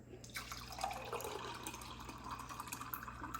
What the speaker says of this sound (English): let's go ahead and let's pour our juice into our, in here.